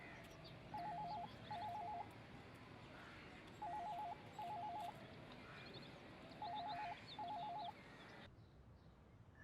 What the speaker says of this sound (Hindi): फोन बज रहा है, जाओ फोन लेके आओ।